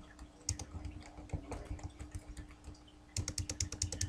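Typing on a computer keyboard at a steady working pace, bursts of quick close clicks that pause briefly then resume in a denser, louder run near the end, with no talk.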